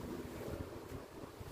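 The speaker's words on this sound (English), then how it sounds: "I hope the wind isn't too noisy on this." Outdoor wind buffeting a microphone high on a tower beside an old cobbled wall under restoration, a constant low rumbling roar with no other sounds.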